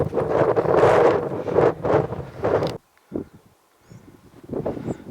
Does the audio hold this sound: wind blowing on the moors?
yes